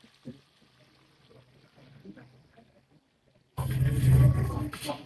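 Half a cup of water is poured into rice for beef dum biryani. Soft talk and kitchen sounds come first, then a loud, steady, close splashing pour fills the last part.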